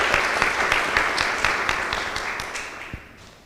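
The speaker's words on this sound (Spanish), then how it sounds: "Un fuerte aplauso también para el magistrado Vázquez Goico." An audience at a labour-rights law panel in Punta Cana applauds a magistrate, with brisk, dense clapping that starts strong and gradually fades over a few seconds, with a few distinct individual claps standing out.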